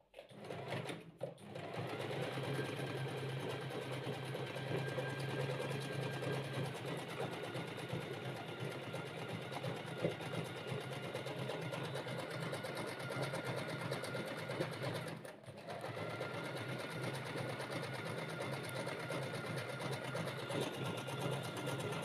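A sewing machine runs a long, steady complex decorative stitch, a continuous close hum with a brief pause near the middle, and no talking over it.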